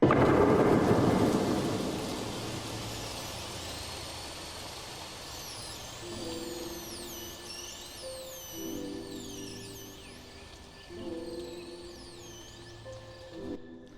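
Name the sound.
synthesized fairy sound with swept noise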